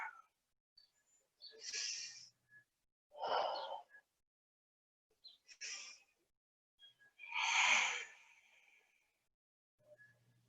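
Slow, deliberate breaths during a yoga pose, soft inhales and exhales spaced several seconds apart, close and quiet in an otherwise silent space.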